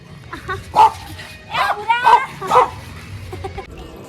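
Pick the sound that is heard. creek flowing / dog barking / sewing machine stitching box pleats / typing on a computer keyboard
dog barking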